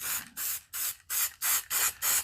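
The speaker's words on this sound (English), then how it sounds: "which is what I'm going to spray all of this with" An aerosol spray can lays down a light coat of paint in seven short, evenly spaced hissing bursts, close up and steady, with no talking.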